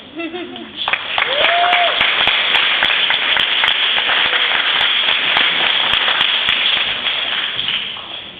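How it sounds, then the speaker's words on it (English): A lecture audience at CSULB applauds after a brief spoken introduction, the clapping starting abruptly and staying loud and steady, with sharp individual claps standing out. "If you could give applause."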